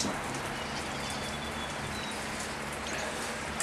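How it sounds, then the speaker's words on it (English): Heavy rain bucketing down outdoors, a dense, even hiss of pouring water that stays constant and loud throughout, with no voices. "talk about bucketing down"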